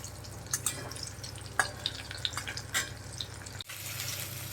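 Potatoes and cauliflower frying in mustard oil give a steady close sizzle with scattered stirring clicks and scrapes, no voices, and a sharp shift in texture near the end.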